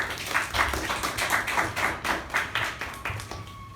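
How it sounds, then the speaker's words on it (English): Audience members at a speech-club meeting give a round of applause, moderate clapping from a modest group with a loose pulsing rhythm that gradually thins and tapers toward the end. "give her a huge round of applause"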